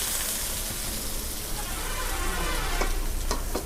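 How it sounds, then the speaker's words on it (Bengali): Oil sizzling steadily in a pan while pulao cooks, a soft continuous crackle with a few brighter spits near the end. "এটা ফ্রাই হচ্ছে"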